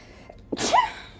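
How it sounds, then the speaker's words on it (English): A single person sneezes once, close and fairly loud: a short intake followed by a sharp, breathy burst. "my fucking back hurts so bad on the lower part every time I sneeze"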